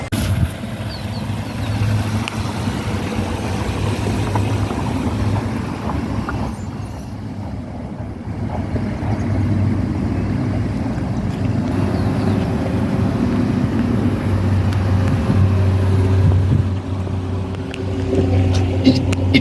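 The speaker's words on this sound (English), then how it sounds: "Assuming I want to stop here, I will press the brake further and the car will stop." A car moves along at low speed with a steady engine and road rumble that eases as it brakes to a stop, the hum continuing while idling, heard from inside the cabin without talk.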